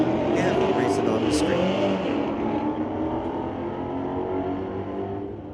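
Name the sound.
street legal drag race cars racing down the strip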